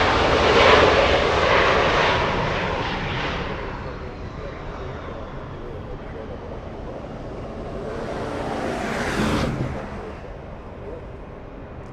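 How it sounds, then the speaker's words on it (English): A Lufthansa airliner arriving from Munich at Los Angeles International Airport rumbles at a distance, a steady broad engine roar that dips and then swells again briefly, with people talking over it. "German Lufthansa flying in from Munich in the distance."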